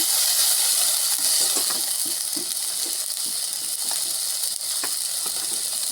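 A hot pan of tilapia curry with pointed gourd and taro hisses and sizzles steadily after a little water is added, a loud continuous sputtering broken by occasional stirring clicks, with no talk.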